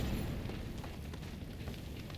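An enemy frag grenade explodes in The Division 2, a loud boom with a rumbling, crackling burst that decays over a couple of seconds.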